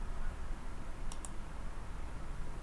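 Two quick, crisp mouse clicks close together on a PC running Cisco Packet Tracer, faint against a low, steady room hum.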